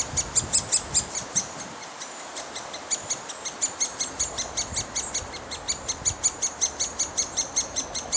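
Great spotted woodpecker chicks beg loudly from a nest cavity while parents feed them, a rapid train of sharp, high, repeated calls in regular pulses, close and insistent, briefly pausing before resuming.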